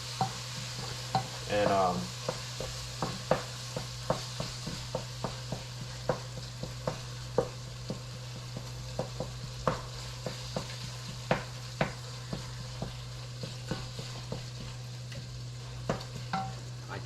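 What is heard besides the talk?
chopped onion frying and stirred for chili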